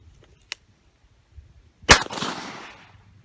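A single sharp gunshot at target practice cracks loudly and close, followed by a short decaying echo, with a faint click and quiet movement before it.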